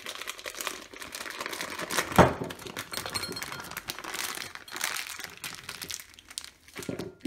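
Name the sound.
piping bag crinkling as it is wiggled off a glass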